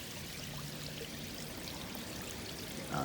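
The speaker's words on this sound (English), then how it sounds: "So a water wall, you can see the water that's actually coming" Water pours steadily from a slit in an outdoor backyard water wall, giving a faint continuous trickling and splashing wash with no talk.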